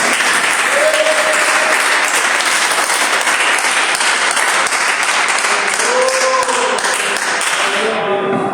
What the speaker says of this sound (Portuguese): dê uma salva de palmas para Jesus mesmo.